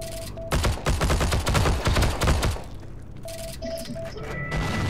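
Video game battlefield gunfire, a dense burst of rapid shots and crashing impacts for a couple of seconds, then quieter scattered sounds and electronic tones, no talk.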